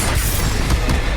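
A Confringo fire-blast spell explodes in the Hogwarts Legacy video game, a dense, loud, sustained burst of roaring noise that fills the short moment.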